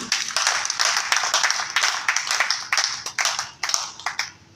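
A church congregation clapping together in acclaim, a dense run of fairly close hand claps, strong and rhythmic at first and thinning out toward the end.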